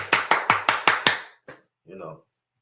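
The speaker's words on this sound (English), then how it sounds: "Let's clap it up for T.O." One person clapping six times in an even, quick rhythm, close and loud, followed by a single later clap and a brief spoken word.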